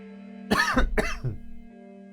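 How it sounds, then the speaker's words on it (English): Two harsh coughs close together, followed by a softer throat-clearing sound, over a steady low electrical hum. "dodgy cough"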